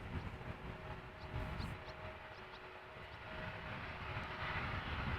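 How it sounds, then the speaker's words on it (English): Embraer 175 departing Amsterdam Schiphol heard faintly at a distance, a low rumbling engine drone with a thin steady whine and a few soft chirps, swelling slightly toward the end. "Embraer 175 going to Gothenburg, flight 1157."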